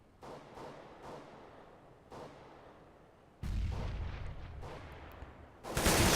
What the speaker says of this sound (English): Stabby with the M4A1 frag onto Pronax, and a second one onto Spitfire